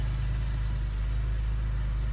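A BMW E46 M3 idles with a steady, heavy low hum and an even throb, constant and close, with no talking.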